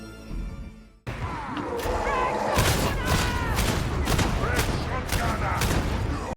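Lock Mark II-B Spearhead Bolt Gun firing in Warhammer 40,000: Darktide, a loud, dense run of heavy booming shots in a steady rhythm over a chaotic battle din, after a brief quieter lead-in.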